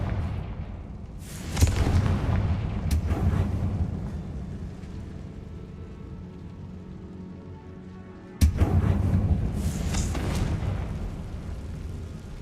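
Two booming blasts of the Confringo fire spell in Hogwarts Legacy, each a sudden loud burst followed by a long rumbling roar that slowly fades.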